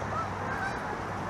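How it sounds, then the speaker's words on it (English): Geese honking outdoors near a waterfront in Philadelphia, a few loud nasal honks close by over a steady background wash, no talk. "There's geese."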